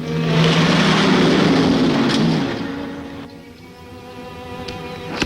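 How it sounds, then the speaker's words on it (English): A car approaching on a quiet road, a loud engine drone at first that fades and shifts as it passes, leaving a softer hum with faint rattles. "I hear a car."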